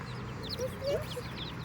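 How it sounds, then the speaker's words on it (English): Chickens cluck softly in short, scattered calls under a steady background rumble, faint and close together with a couple of sharper clucks in the middle. "we got our chickens."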